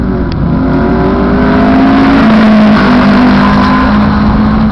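Two LS V8-swapped Honda Civics, an EG and an EK, accelerate loudly in a side-by-side race, their engines rising in pitch through gear changes in a close, overpowering roar.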